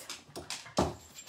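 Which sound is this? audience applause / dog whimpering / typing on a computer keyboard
dog whimpering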